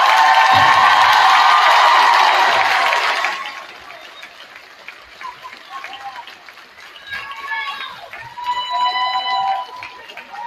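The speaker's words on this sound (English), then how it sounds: "One more round of applause for our graduating class" A crowd applauds and cheers for a graduating class at a high school senior event, loud and dense at first, then dropping to scattered claps with shouts and voices around.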